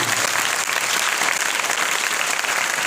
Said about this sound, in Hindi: ताली बजाओ इस बालिका के लिए